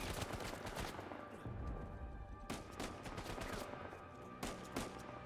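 Gunshots in Uncharted 4 pop in sharp, scattered bursts, a few distinct loud cracks standing out over a busy, rumbling combat background.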